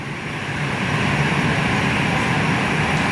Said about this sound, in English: And on my right is an AirAsia A320 in the Sean livery